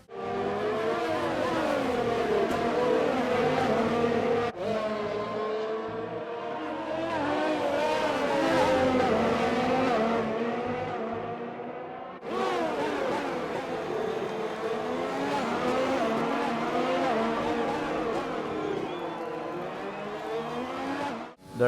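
Formula 1 cars race in the F1 2020 video game at the Australian Grand Prix, with a high-pitched engine scream that rises and falls continuously through gear changes and passes by at close range, loud and with no talk.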